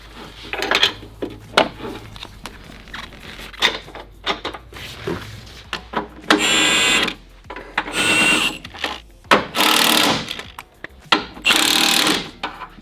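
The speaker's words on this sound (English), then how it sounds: "we'll just drill a hole in right here and then put a self-tapping screw in" A power drill boring a hole for a self-tapping screw during a Mazdaspeed3 motor and transmission mount install, heard as several loud bursts of whining drilling separated by clattering tool and metal knocks in a garage.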